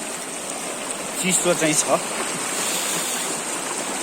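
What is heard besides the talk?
small river stream flowing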